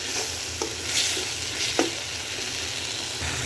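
Shing fish hiss and sizzle as they go into hot oil with fried onion peels, a steady close frying crackle with a couple of brief stirring clinks and no talk.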